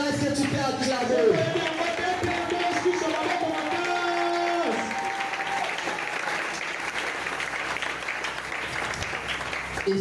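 A church congregation at a Sunday thanksgiving service bursts into loud, sustained applause that fills the room for about ten seconds, with a few voices rising within the crowd noise.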